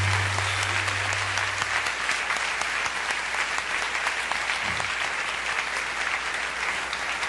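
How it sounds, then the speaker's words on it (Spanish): A church congregation applauds during a sermon, a sustained, even roar of many hands clapping throughout, with a low hum briefly underneath at the start. "Él merece un aplauso."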